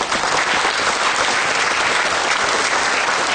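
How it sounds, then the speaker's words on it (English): Sustained, dense applause from an audience at an Ontario summer show, a steady clapping wash that stays loud and even throughout with no pauses. "A big round of applause for everybody that organized this great summer show,"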